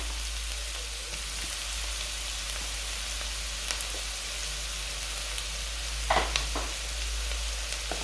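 Vegetables and sausage sizzle steadily in a hot pan, a constant close frying hiss with a brief stir or clink near the end.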